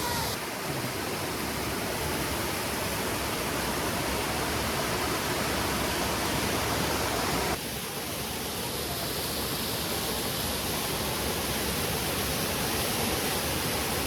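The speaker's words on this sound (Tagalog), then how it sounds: "Yan yung Upper Falls." Upper Falls at Troll Falls pours in a dense, unbroken roar of falling water, close and steady throughout with a slight shift in tone midway, no voices.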